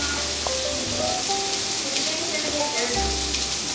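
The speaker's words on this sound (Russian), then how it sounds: "А лучок уже обжаривается здесь." Onions and mushrooms frying in a pan give a steady close sizzle and hiss that holds throughout, with faint kitchen clatter underneath.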